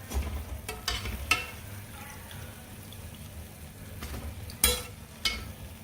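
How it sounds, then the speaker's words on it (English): Puff puff dough made with eggs and milk frying in hot oil, a steady low bubbling sizzle with a few sharp clinks and stirring knocks scattered through. "So we continue until all the batches are fried."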